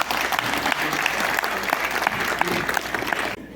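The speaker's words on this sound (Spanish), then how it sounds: "Fuerte aplauso, por favor." Loud, dense audience applause at a 50th anniversary celebration of the Chijallta FICI community federation, steady clapping filling the room for a few seconds before cutting off abruptly.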